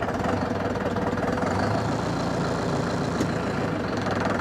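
A tractor engine runs steadily and loudly close by as the machine drives forward and brakes, giving a continuous low, knocking diesel rumble with no voices.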